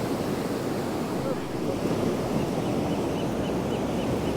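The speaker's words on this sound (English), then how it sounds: "A lot of shore breakers." Shore breakers at Ocean Beach, San Diego roll in as a continuous broad roar of surf, churning steadily with wind noise buffeting the microphone throughout.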